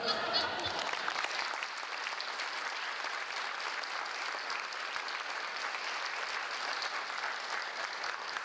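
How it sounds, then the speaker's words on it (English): Applause fills a room at a United Way campaign event, a dense, steady clapping from a large crowd that holds at an even level throughout with no speech. "Give yourself a round of applause"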